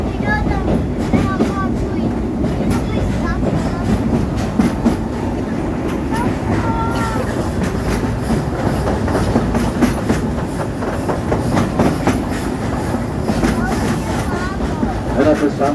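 Steady rumble and rhythmic clatter of a train rolling along the rails, heard from inside the car, with people talking over it.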